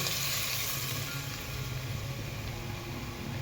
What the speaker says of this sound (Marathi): आपण आता याच्यावर कडकडीत असं तूप ओतायचं आहे. चांगला आवाज आला पाहिजे चरकन.